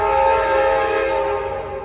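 An Amtrak San Joaquin passenger train at Oakland Jack London Square station, a loud steady horn-like tone layered over rail rumble, close and sustained, fading slightly at the end.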